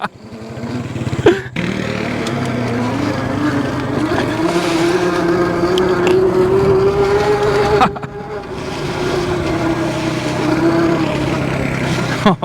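An ESKUTE Nova Mini electric bike rides off-road over gravel, rocks and mud, giving a continuous loud motor whine that rises and holds over crunching ground noise and wind, with brief breaks.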